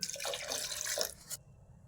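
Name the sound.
pouring half a glass of water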